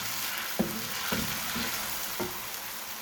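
Onions frying in a pan for dhaba-style sarson ka saag, a constant close sizzle broken by three soft spoon-stirring knocks, with no voices.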